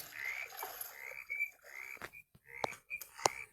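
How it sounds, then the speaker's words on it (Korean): A frog croaking in a video game, with repeated sharp croaks and chirps that come close and clear in irregular bursts, separated by short quiet gaps, and no speech. "개구리 떴다, 개구리 떴다"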